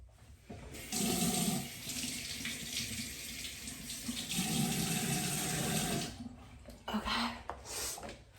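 Water from a sink tap runs steadily while someone rinses a face, splashing and shifting in strength, stopping briefly and then starting again near the end.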